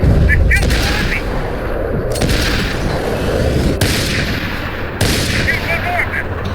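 Sharp gunshots ring out in Max Payne 3, several loud cracks separated by a second or more, with a dense, rumbling firefight behind them and voices talking underneath.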